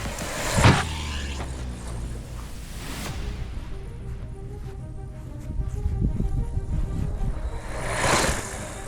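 An Arrma Granite GROM 1/18-scale RC car drives and jumps, its small electric motor whirring and surging in a steady near drone with sharp bursts and bumps of landing.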